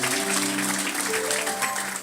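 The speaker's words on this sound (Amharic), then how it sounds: "አጨብጭቡ ለጌታ ክብር።" A church congregation applauds in a loud, continuous roar of clapping, with sustained musical tones running underneath.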